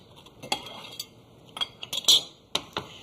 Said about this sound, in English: So mix this right into the ricotta cheese